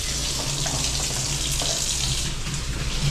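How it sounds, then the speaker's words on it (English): A kitchen water tap runs steadily and loudly while hands are washed underneath it, a constant close gush of water with no voices. "wash my hands up"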